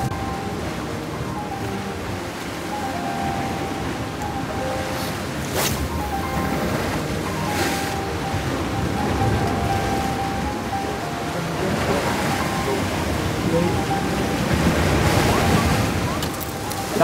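Surf washing on a fairly calm sea during a fishing outing, a steady broadband wash with gentle swells rising and falling, mixed with wind buffeting the microphone throughout.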